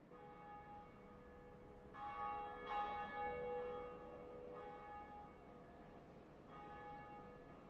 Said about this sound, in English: here's our first Bell of Awakening